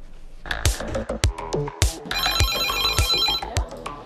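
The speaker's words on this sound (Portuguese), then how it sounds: "O telefone tem tocado bastante pelo mesmo motivo." A telephone in an ambulance dispatch centre rings with a bright repeating electronic ringtone, loud and close, pulsing in quick rhythmic bursts for several seconds with no talking.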